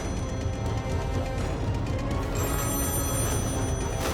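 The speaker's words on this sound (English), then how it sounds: "I called Paul, and it just rang and rang and rang" A telephone rings on and on with nobody answering, a steady, continuous ring that fills the whole stretch with no voices.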